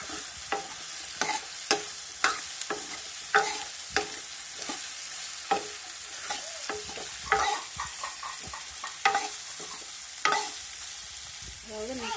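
Soya chunks with a pinch of turmeric fry in a pan for a pepper fry dish, a steady close sizzle broken by repeated sharp scrapes and clinks of stirring.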